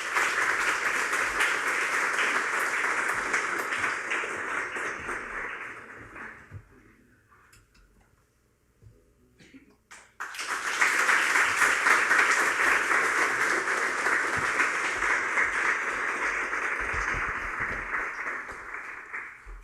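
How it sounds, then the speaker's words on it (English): Sustained audience applause fills a graduation ceremony hall for a musician, loud and steady for several seconds, dipping to near quiet briefly, then swelling back up to a full, dense round of clapping that continues to the end. "please give him a round of applause"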